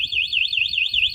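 Piaggio Fly 125 scooter alarm blaring a loud, close electronic siren that sweeps rapidly up and down in pitch without pause, with low rumbling underneath.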